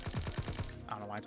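A rapid burst of gunfire in the Call of Duty WWII video game: about four or five quick shots in a row, then a short metallic rattle, heard close and loud.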